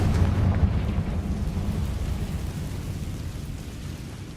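Confringo explosive spell cast in the Hogwarts Legacy video game, a rumbling, fiery blast with a dense low roar that stays loud throughout and slowly trails off.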